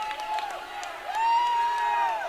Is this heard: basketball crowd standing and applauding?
yes